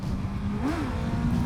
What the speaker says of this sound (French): Quand je vous dis qu'elle est rigolote cette moto! Le moteur tient donc toutes ses promesses.